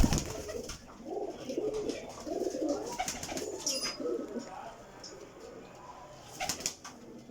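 Pigeons coo softly in low, throaty bursts throughout, with occasional wing flaps and light background noise.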